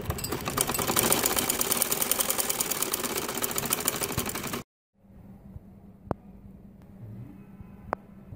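A sewing machine stitches a seam on a tulip salwar, a fast, even rattling whir for several seconds that stops abruptly, leaving quiet room sound with a few sharp clicks.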